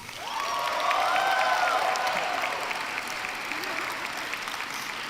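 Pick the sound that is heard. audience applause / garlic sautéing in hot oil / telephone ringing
audience applause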